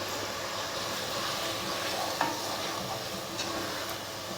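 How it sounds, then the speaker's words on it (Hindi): Masala frying in hot oil while being stirred for a tinda gravy, a close, steady sizzle with occasional scrapes of the spoon against the pan, no talk. "बस अब मैं इस मसाले को भूनूंगी अच्छी तरह"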